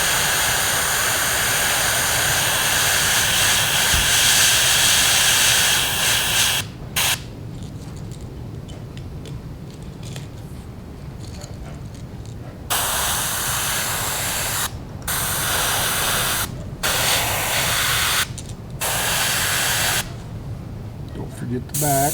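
Airbrush spraying black paint onto the eye sockets of a crappie fishing lure, a steady close hiss broken into short bursts with brief pauses between sprays.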